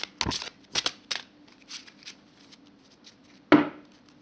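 Oracle cards shuffled up close, giving a few quick riffling bursts, then a pause and one sharp final snap as the deck is squared.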